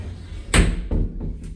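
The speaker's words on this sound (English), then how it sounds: "Got a sliding door on the outside." A sliding door on a hotel bathroom at the Westin Cleveland Downtown rolls shut with one solid thud, followed by a softer knock and faint rattles in a quiet room.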